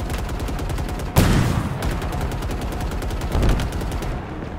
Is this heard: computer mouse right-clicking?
no